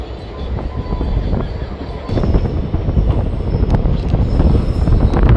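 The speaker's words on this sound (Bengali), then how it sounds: "রাজা ভাত খাওয়া স্টেশনে অনেকক্ষণ দাঁড়ানোর পর ফাইনালি ট্রেন ছাড়লো।" Siliguri–Bamanhat Intercity Express pulling away from Rajabhatkhawa station, a steady broadband rumble of the moving train that grows louder and heavier after the first couple of seconds, with wind buffeting the microphone throughout.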